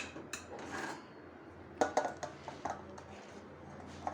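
Cooking pot and utensils clatter and scrape while jaggery syrup is moved into a mixing bowl for semolina laddu, a few sharp metallic knocks standing out over a low continuous rubbing, close by with no talk.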